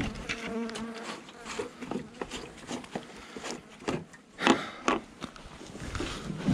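Honeybees buzzing around a hive entrance, a steady close swarm hum with bursts of louder passes and some clicks from handling.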